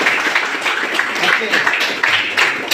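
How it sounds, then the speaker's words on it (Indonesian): A classroom of students claps for two classmates, a dense, steady patter of many hands that fills the short clip at close range, with a teacher's voice briefly heard over it. "kita beri tepuk tangan"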